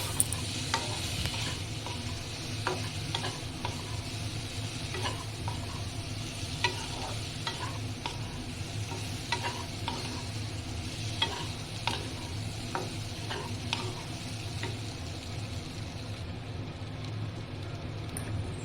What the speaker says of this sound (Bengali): দিয়ে ওই মশলাটাকে আমাকে ভালোভাবে কষতে হবে।